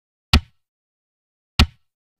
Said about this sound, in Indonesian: kemudian ketuk kick 2 kali,